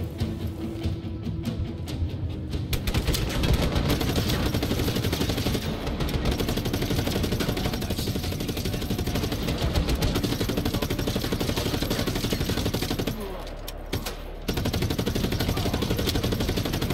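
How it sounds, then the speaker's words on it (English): Sustained gunfire rattles through a Just Cause 3 base attack, dense bursts of machine-gun and rifle shots aimed at the player, loud and continuous for the whole stretch with a brief lull near the end. "Who the hell is shooting me?"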